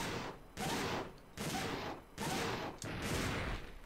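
Bursts of rapid automatic gunfire from Dino Crisis 2, four dense volleys each lasting about half a second to a second, loud and close, separated by brief quieter gaps.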